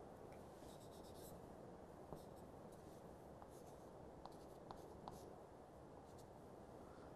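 A pen drags across paper to draw a tie line on a ternary phase diagram, giving a soft, steady scratching that runs quietly throughout with a few faint taps and no voice.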